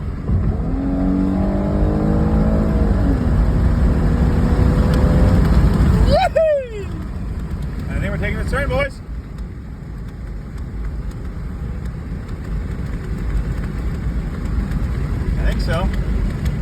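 A Lamborghini engine roars loudly and continuously as it revs and accelerates to warm the tires, with rising and falling engine pitch through a gear change partway through and someone talking over it.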